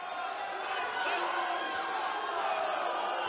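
An arena crowd at a judo Grand Slam bout reacts with a sustained murmur and scattered whoops, a broad, steady roar heard from within the stands.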